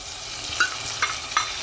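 Green peas sauté in a hot pan with a low steady sizzle, punctuated by three distinct scraping stirs of a spoon against the pan, close and without speech.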